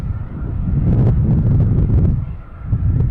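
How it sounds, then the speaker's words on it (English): Gusty wind buffets the microphone outdoors at Boston Logan Airport during plane spotting, a loud, continuous low rumble that swells and eases over a few seconds with no voices. "Wow, it's getting windy."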